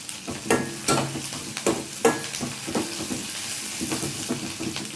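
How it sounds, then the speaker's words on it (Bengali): Rice grains sizzle in a hot pan with onions while a utensil stirs them in repeated scraping strokes, roughly one every half second. "আর চালটা আমি ভালো করে ভেজে নেব।"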